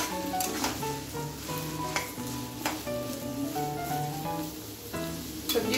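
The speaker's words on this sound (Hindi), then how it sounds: "सब्जियों को एक मिनट तक अच्छे से खुले ही बिना ढक्कन लगाए फ्राई कर लेते हैं" Vegetables sizzle and crackle steadily in a hot, uncovered pressure cooker, with a utensil scraping and clinking against the metal as they are stirred.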